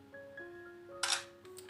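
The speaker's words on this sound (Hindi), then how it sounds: "मैंने फ़ोटो क्लिक कर दी हो" An Oppo Pad Air tablet's front camera fires its shutter as a single short, crisp click, fairly close, with a faint steady tone running underneath and a softer trailing sound just after.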